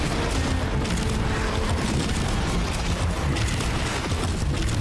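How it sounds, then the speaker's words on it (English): Razor grenades exploding in Warframe, a sustained loud barrage of overlapping blasts and crackling bursts with deep rumbling low end, continuous for several seconds without a break. "Throw the razor grenades."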